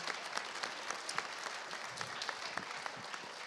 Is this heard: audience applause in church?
yes